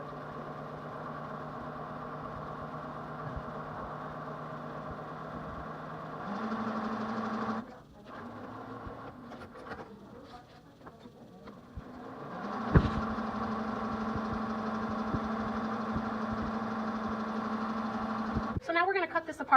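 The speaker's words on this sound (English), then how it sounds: "So I'm going to sew the other side for you here in a moment" A sewing machine stitches quilt half-square triangles with a steady mechanical whir. It runs continuously, pauses briefly with some handling noise, then starts up again at a moderate level.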